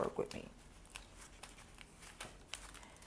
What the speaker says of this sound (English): get a couple of good shuffles in for you